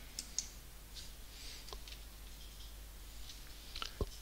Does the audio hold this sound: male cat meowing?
no